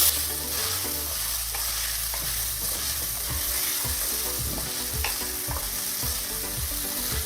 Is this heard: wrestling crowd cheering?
no